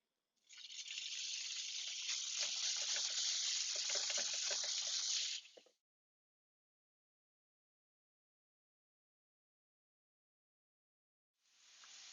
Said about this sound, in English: So now that our pan is hot,